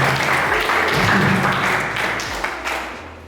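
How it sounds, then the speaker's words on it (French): An audience at a women's conference in Lubumbashi claps together, a brief burst of applause that swells and then tapers off over a few seconds. "On applaudit pour elle."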